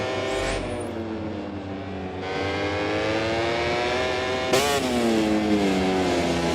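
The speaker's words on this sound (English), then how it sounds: "we can hear the engine of Iwakan Kafu in the background" Racing motorcycle engine on track at the Sachsenring circuit during a MotoGP-style race, a steady high-pitched drone with rising and falling revs and a sharp burst near the end, loud and continuous with no talk.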